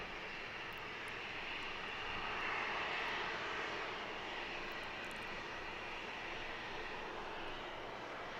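A Southwest airliner takes off from runway 27 at San Diego airport, its engines giving a steady, broad roar that swells slightly midway and holds loud throughout, with no voices.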